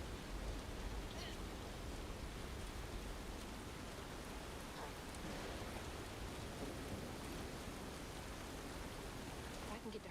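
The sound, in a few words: thunderstorm with rain in video game South of Midnight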